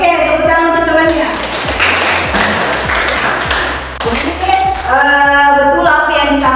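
Students in an Indonesian classroom lesson give a classmate a round of applause, a dense wash of clapping filling the room at close range, with a teacher's voice and tonal talk rising over it near the end.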